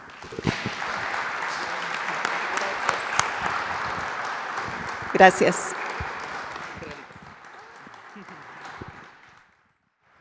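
Audience applause for a speaker at a talk on Cusco's past, present and future, a full round of clapping with a brief spoken thanks over it midway, then fading out before silence.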